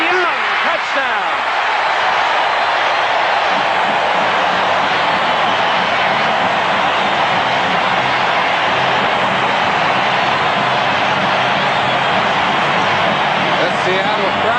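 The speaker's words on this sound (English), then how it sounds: "The Seattle crowd responding, kicking that meter up well over 100 as they have something to cheer about finally" Loud, sustained roar of a Seattle stadium crowd cheering after a touchdown in a 1984 NFL game between the Denver Broncos and Seattle Seahawks, a dense wall of noise holding steady throughout with no break.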